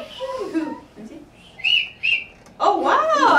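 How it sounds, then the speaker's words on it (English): Children whistle like birds in a group music activity, making short high whistled notes in a couple of quick bursts. Voices talk and sing around them. "Can you try to whistle? Can anyone whistle?"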